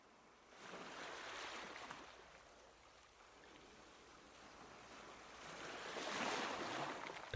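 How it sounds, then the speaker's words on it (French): Ocean waves on a sunny beach, a soft hissing wash of surf that swells, fades in the middle and rises again toward the end, steady and fairly quiet with no voices. "le bruit des vagues"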